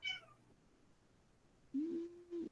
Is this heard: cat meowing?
yes